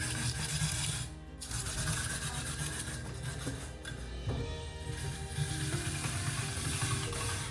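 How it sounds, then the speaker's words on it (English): Potatoes being sliced into scallop slices on a king cutter, a continuous close rasping, rubbing scrape with brief pauses and mechanical clatter. "I got Justin on this king cutter here. He's slicing all the potatoes in these nice scallop slices"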